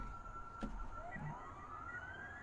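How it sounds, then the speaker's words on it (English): A distant siren wails, its pitch slowly rising, faint beneath low outdoor rumble. "There's sirens blaring"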